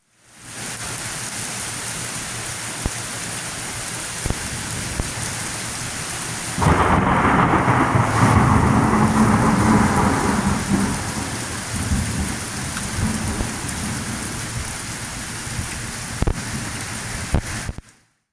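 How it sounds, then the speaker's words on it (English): Heavy thunderstorm rain pours steadily near Eureka Springs, Arkansas, a dense, close roar that lasts throughout, with a loud rumble of thunder swelling partway through and then fading back into the downpour. No one speaks. "we got hit with this ugly thunderstorm and we got soaked"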